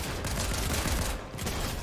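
Rapid gunfire from a Fortnite match, dense and continuous bursts filling the whole moment with no pause, loud and close.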